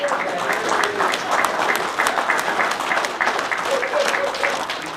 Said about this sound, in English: let's give one more round of applause for this young man right here